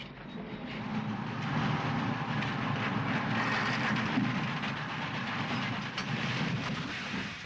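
A train from a steam locomotive film rumbles in a steady, loud, broad roar with a constant mechanical clatter throughout, and no voices.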